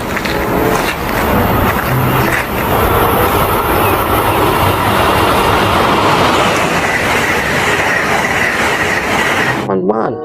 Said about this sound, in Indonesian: Selanjutnya, wah, ada kereta api